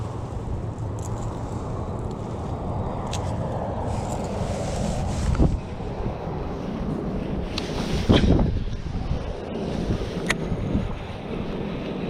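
Wind outdoors by a fishing pond, gusting steadily and buffeting the microphone with a low, rough rumble that swells and eases, plus a few faint knocks and rustles near the shore.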